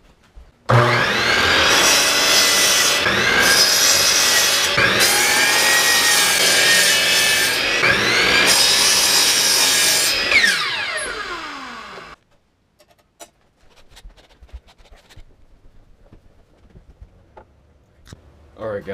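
Wood being sawn by hand to build a mount for Logitech G27 pedals, loud repeated rasping strokes in a steady back-and-forth rhythm for about ten seconds, then stopping, with only faint scattered clatter afterward.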